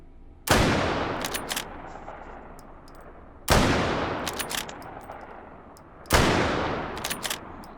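Three loud, sharp Lee Enfield No. 4 Mk 1 rifle shots in the VR game H3VR, spaced about three seconds apart, each followed by a decaying echo and small mechanical clicks of cycling the bolt.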